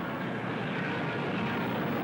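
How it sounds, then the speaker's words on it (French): Dassault Ouragan, an early French jet fighter, roaring steadily and loudly with a dense, unbroken engine noise and no talk over it. "se fait présenter l'Ouragan, premier avion de combat à réaction entièrement français"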